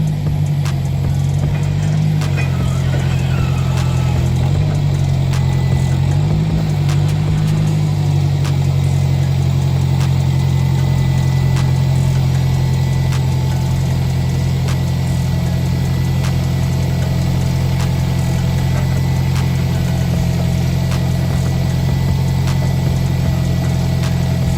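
A forklift engine idles steadily and close by, a low continuous drone with faint mechanical rattle throughout, running while it lifts a totaled truck converted into a rock crawler to test its suspension flex.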